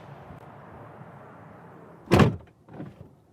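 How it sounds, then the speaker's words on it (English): A Tesla's doors shut on command: one firm thud, then a softer second closing, heard close over a steady low background hum. "let's see what happens when we command the car to close the doors"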